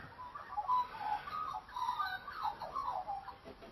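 Birds calling and singing before sunrise, with warbling, chirping phrases that rise and fall continuously at moderate loudness against a quiet background.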